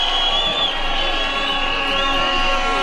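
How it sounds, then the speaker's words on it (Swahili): Crowd at an outdoor ceremony conferring city status in Nakuru, Kenya, cheering and applauding continuously and loudly, with scattered shouts and whoops over a steady wash of claps. "Tupige makofi tafadhali."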